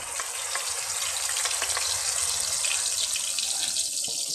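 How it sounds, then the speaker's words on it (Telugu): A paste of onion and tomato fries in a pan for a fish curry, giving a steady hissing sizzle with faint crackles and occasional soft stirring, close and continuous without any voices. "ఈ ఉల్లిపాయ టమోటా పచ్చి వాసన పోయేదాకా చక్కగా మనం వేపుకోవాలన్నమాట"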